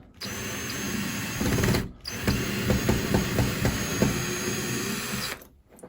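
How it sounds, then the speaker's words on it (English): A power drill backs screws out of a towel rack's wall mount, whirring steadily up close for several seconds with a short pause and rattling bursts partway through, then stopping. "we're gonna start by go ahead and removing the screws"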